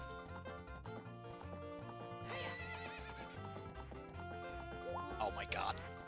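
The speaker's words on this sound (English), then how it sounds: "It still neighs and that's funnier." A horse neighs in a Zelda video game, where the horse has been swapped for a red ride vehicle, with a bright whinny rising late over game music and clip-clop hoofbeats.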